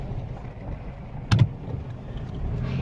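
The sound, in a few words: four-wheel drive vehicle driving off-road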